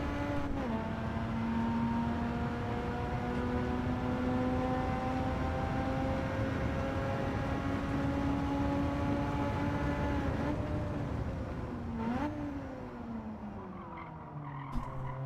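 In a sim racing game, a race car engine runs at a loud, steady high-revving drone, with the pitch sliding down and dipping as the car brakes and shifts near the end, followed by faint ticks.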